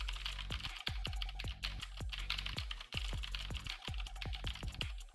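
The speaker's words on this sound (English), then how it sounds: "Here's a keyboard test." Rapid typing on a computer keyboard picked up by a gaming headset microphone, a steady run of sharp, close clicks with brief pauses between bursts of keystrokes, and no voices.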